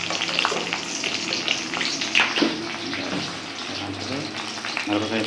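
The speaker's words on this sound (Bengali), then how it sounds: "আবার মাছটা নেড়ে দাও" Fish being stirred with ground coriander and cumin in a frying pan for a Bengali fish-head dal, giving a steady sizzle with scraping stirs and watery bubbling, while voices talk faintly under it.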